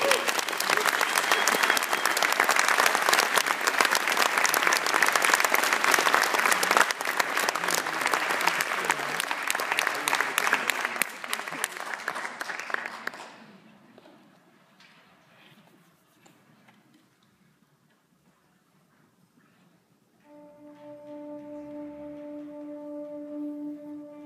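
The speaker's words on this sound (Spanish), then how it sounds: "Recibamos con un fuerte aplauso a Michael Bernier y Richie DeCarlo." Audience applause at a live event, a dense, loud burst of clapping that fills the first thirteen seconds and then fades out to near silence, followed by a quiet tonal hum.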